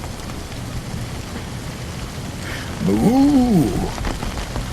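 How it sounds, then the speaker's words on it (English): Hail pelts an open pasture with cattle out in the storm, a loud, dense patter of steady rattling ice, with a brief voice exclaiming midway and a low bellowing call rising over the downpour. "This hailstorm took the cattle and the cameraman by surprise"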